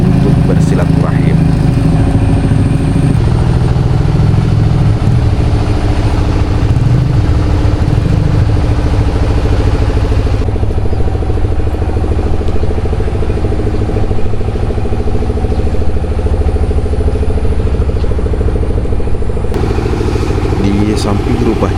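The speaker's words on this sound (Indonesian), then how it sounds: "masih kangen suasana suara gemuruh mesin padi ini" A rice milling machine at a village rice mill beside a house, its engine giving a loud, continuous rumbling drone with a clattering texture, heard close and steady while a person talks over it.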